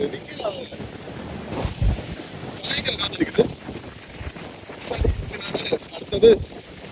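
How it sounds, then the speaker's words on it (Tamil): Gusty coastal wind in Sri Lanka buffets the microphone in uneven bursts, with rushing noise near the shore and a voice talking intermittently underneath. "அவ்வளவுக்கு மோசமா காற்று அடிச்சு கொண்டிருக்குது"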